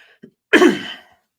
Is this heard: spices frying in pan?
no